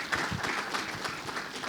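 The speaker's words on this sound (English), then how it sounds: "So a round of applause for our esteemed speakers." Audience applause for the speakers at a truck and bus fleet summit panel discussion in Hyderabad, a steady, moderately loud patter of many hands clapping with no voice over it.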